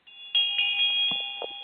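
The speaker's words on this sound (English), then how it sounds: "Field, Lady of the Field, then circles the henge deicil and rings the bell." A bell rung during a ritual at a henge gives a clear ringing tone that sustains evenly with overtones, with faint scattered knocks and movement in the quiet space around it.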